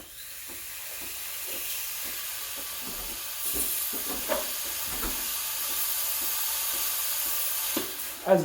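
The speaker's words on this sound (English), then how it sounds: "I'm going to turn on the steam." The steam wand on a Breville Barista Express BES860 espresso machine hisses, a steady close hiss with faint rhythmic ticking and sputters that builds slightly toward the end, with no talking.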